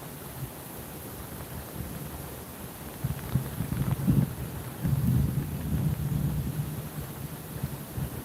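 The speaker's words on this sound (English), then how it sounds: "Acid rain." Rain hisses steadily outdoors during a bass fishing trip while low thunder rumbles swell in the middle, rising and falling in two broad waves against the constant patter.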